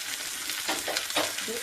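Shallots and curry leaves fry in hot oil with a steady, close sizzle, with crackling bursts as the leaves hit the pan. Nobody speaks.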